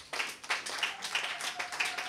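Scattered applause at a civil wedding ceremony in Kinshasa, with several bursts of hand claps coming in uneven waves, fairly close and moderately loud, no voices over it.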